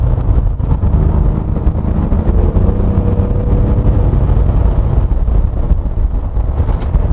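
A 2020 Kia Mohave V6 diesel SUV on a winding road gives a steady, loud low rumble with broadband wind and road noise throughout.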